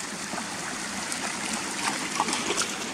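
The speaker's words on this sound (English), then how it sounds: "the stream runs all the way down here, look, from the waterfalls up there" A stream flowing down from waterfalls among reeds gives a steady, close rushing and babbling, with small splashes and trickles over continuous water noise.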